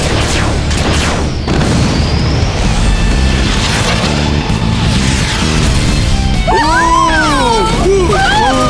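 A cartoon robot car's rocket punch fires and explodes with loud, rumbling booms and crashes, and a voice speaks near the end.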